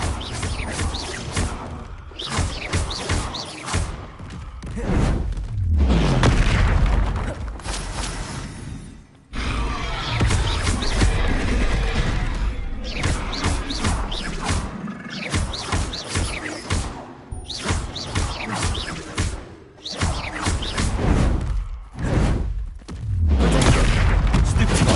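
Repeated Confringo spell blasts in a Hogwarts video game land as loud booming thuds in rapid bursts, with short quiet gaps and some game voices between them.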